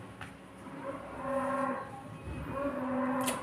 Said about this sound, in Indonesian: Ah, itu ada suara sapi.